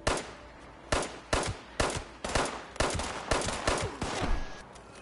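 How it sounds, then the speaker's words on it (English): Gunfire in the video game Fallout 76, a run of about ten loud, sharp shots at a fairly steady rhythm, each with a short reverberant tail, with no talk. "Is a guy shooting at y'all?"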